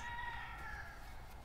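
Baby chicks for sale in a farm supply store, a faint chorus of high peeping chirps over a steady indoor hum, heard from a little distance.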